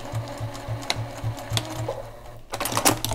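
A sewing machine stitches binding onto a quilt, a rapid steady mechanical chatter running for a few seconds before a brief pause and some handling noise.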